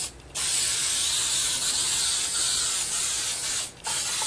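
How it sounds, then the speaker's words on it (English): Adhesive is sprayed from a spray bottle around the edges of a carbon fiber lazy Susan piece, a loud, close, continuous hiss that runs for several seconds and breaks off briefly near the end. "I'm spraying all around the edges, pretty good amount of it"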